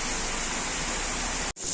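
Steady rain of the monsoon season, a dense, even hiss of falling water that fills the clip without voices and briefly cuts out near the end before resuming.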